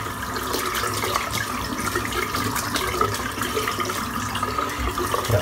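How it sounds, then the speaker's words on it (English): Steady broadband rush of tap water running over a shaving brush during a head shave with Elvado Royal Tahitian Lime soap, continuous and close throughout with no talking. "so I'm just rinsing out my brush now"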